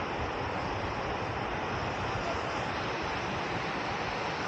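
Jogini waterfall near Manali, a steady broadband rush of falling water that fills the clip evenly and continuously, with no voices.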